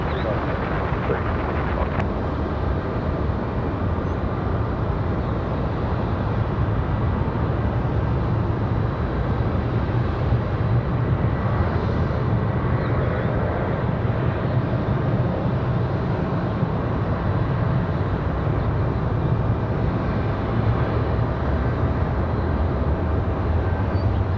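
A Southwest airliner lands on runway 23 left at Raleigh Durham airport, heard as a steady broadband roar of jet noise throughout, with radio chatter faintly present.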